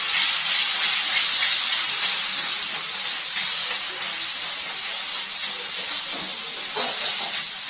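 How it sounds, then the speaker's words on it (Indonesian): Ground spice paste sautés in hot oil with a continuous sizzling hiss, steady and close, rising and falling slightly with occasional louder spits. "Jadi kita tinggal tumis aja bumbunya ini sampai minyaknya keluar dan bumbunya itu"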